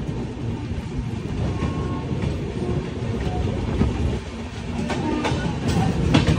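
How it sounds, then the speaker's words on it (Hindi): The Dibrugarh Rajdhani Express picks up speed with a loud, continuous rumble of wheels and carriage, plus occasional clicks and rail clatter, heard up close from the train. "डिब्रूगढ़ राजधानी एक्सेलरेट कर रहा है, भागो भागो"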